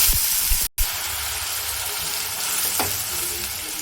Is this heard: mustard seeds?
yes